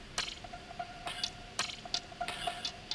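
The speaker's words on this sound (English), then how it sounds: "Over here, I have this percussion loop which I pitched down and fit into this beat." Pitched-down percussion loop inside a phonk beat, with sparse clicky ticks and brighter hits falling in an uneven, syncopated pattern over a faint steady tone. The loop is quiet and subtle throughout.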